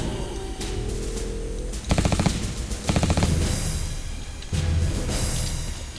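Rapid automatic gunfire from a first-person shooter, Global Ops: Commando Libya, in a few loud bursts of quick repeated shots over steady game ambience, with no talk.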